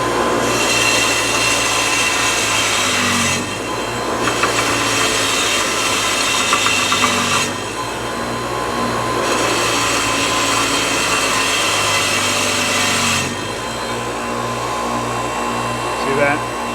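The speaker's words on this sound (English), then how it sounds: "let's walk this over to the wire wheel and see if we can't clean this up" Bench wire wheel scrubbing rust off a brake caliper bracket, a loud steady whirring grind broken by several brief pauses where pressure eases, with a low motor hum underneath.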